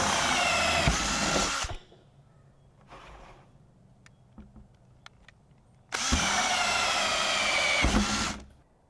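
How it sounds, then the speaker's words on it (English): Power drill with a 2-inch hole saw cutting holes in a plastic rain barrel lid, two loud sustained bursts of whirring and grinding separated by a few seconds of quiet with faint handling clicks. "get your 2-inch hole saw bit ready to drill some holes in the top"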